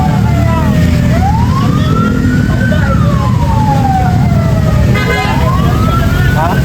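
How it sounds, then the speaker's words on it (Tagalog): An ambulance siren wails in long rising and falling sweeps over heavy street and crowd noise, loud and continuous throughout, with a faster yelp pattern briefly near the end. "Mauna daw yung ambulansya."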